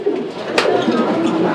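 Pigeons coo at a pigeon market selling local fancy breeds, close and fairly loud over steady crowd murmur, with one sharp brief noise partway through.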